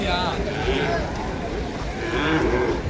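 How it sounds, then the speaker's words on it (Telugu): Jafarabadi breed buffalo at a busy livestock market in Erragadda, Hyderabad, lowing in two drawn-out moos amid loud crowd chatter and market bustle. "అది జాఫరాబాద్ బ్రీడ్ బఫెలో"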